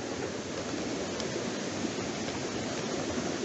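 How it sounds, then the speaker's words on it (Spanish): A river runs beside a hiking trail in Parque Dos Aguas on the way to a waterfall, giving a constant broadband rush of flowing water, steady and moderately loud with no voices. "como ven hay mucha agua, mucho río"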